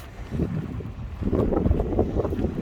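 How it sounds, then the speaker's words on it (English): Wind gusting and buffeting a microphone outdoors on a rainy day along London's South Bank, a low rumbling roar that swells louder partway through. "it's windy"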